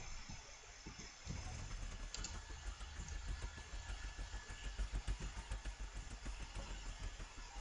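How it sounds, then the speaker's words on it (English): A vehicle engine is boosted in the building game Scrap Mechanic, giving a quiet, rapid chugging pulse that starts about a second in and runs steadily, with no talk. "now let's go to the engine and boost it just a little bit"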